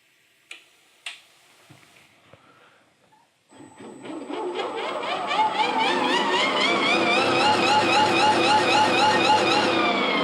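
A prototype electric vehicle switching on: a few faint clicks and ticks, then a loud electric whine rises and sweeps in pitch, holding steady and strong to the end.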